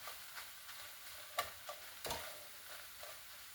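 Vegetables fry in a pan with cooked sausage, giving a faint steady sizzle broken by a few soft ticks and scraping clicks of stirring, with no voices.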